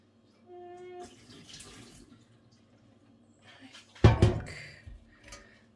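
Water draining from a pot into a kitchen sink while dyeing yarn, a burst of pouring and splashing that starts loud and tapers off, with some quieter clatter and handling just before.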